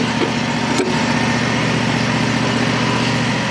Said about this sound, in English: it's got a V-twin 22 horsepower engine on it, and you're talking about a smooth engine